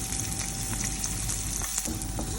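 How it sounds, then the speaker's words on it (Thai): Garlic stir-fried in hot oil in a pan, a steady close sizzle with faint scraping and stirring clicks throughout, no voices. "ผัดกระเทียมนะครับ ให้หอมให้เหลืองนะครับ"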